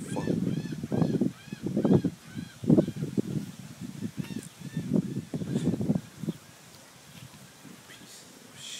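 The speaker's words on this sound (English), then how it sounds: "What do you want, duck?" A duck calls repeatedly in a rough series of honking quacks, loud and close, with bursts clustered over the first six seconds before fading to quiet background.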